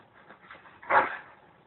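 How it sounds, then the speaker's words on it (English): A dog in the Dragon Age: Origins video game gives a short whimpering yelp, a single brief burst standing out from quiet background. "Ugly dog."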